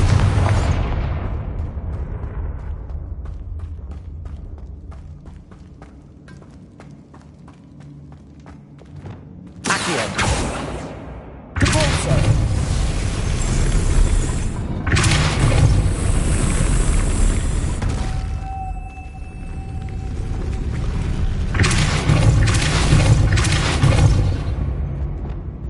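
Confringo spell blasts in the video game Hogwarts Legacy, heavy booming explosions with rushing, crackling debris that hit repeatedly after a fading rumble, loud and close with a sustained roaring wash between impacts.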